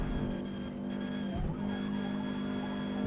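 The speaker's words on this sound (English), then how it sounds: "with a vehicle like this, with somewhat limited horsepower under the hood, climbing that hill, you don't gain a lot of speed climbing that hill" Ford Cortina in Forza Motorsport pulling uphill toward a chicane at Watkins Glen, a low-powered D-class engine droning steadily with a brief dip in tone, loud and continuous with no talk.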